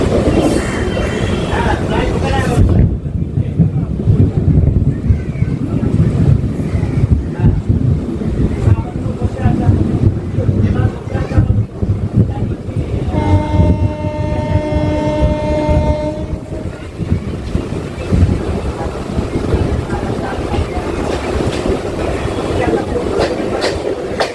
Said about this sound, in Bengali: আমাদের ট্রেন এবার পার্ক সার্কাস স্টেশনে প্রবেশ করতে চলেছে